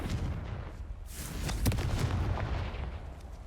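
Confringo fire spell blast from Hogwarts Legacy: a loud, rumbling explosive burst with a sharp crack partway through, trailing into a broad, roaring wash of noise.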